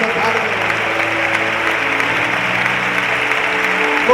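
A church congregation claps together, a steady wash of applause with a sustained musical tone underneath and no speech over it.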